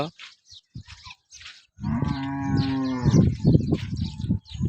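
A pregnant dairy cow gives one long, low moo close by after a few quiet rustles, followed by shorter grunting lows.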